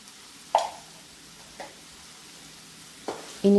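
Potatoes frying in a pan with Kashmiri chilli and pepper powder, stirred in three separate scraping strokes over a soft steady sizzle, ending with a short electronic tone.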